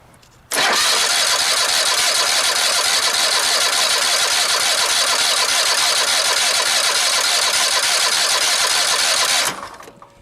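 A Cub Cadet ZT1 54 zero-turn mower engine cranks with the throttle set to slow, a loud continuous whirring starter drone that runs for about nine seconds without catching, then cuts off abruptly.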